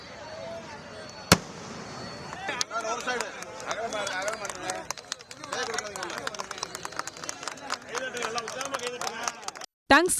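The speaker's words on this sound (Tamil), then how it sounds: "அறிவிப்பு வெளியானவுடன் அரிட்டாப்பட்டி பகுதி மக்கள் வெடிவெடித்து கொண்டாட்டத்தில் ஈடுபட்டனர்" Firecrackers set off by villagers in Arittapatti near Madurai celebrating, a rapid crackle of sharp pops and bangs filling the whole stretch, with a loud crack near the start and crowd voices mixed in beneath.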